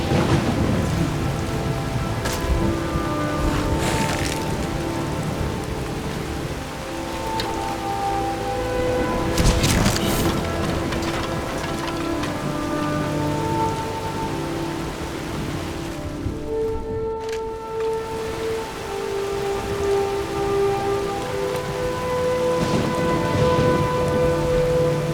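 A thunderstorm in Skyrim pours steady rain with rolling thunder cracks and rumbles, a dense continuous wash of sound with no talk.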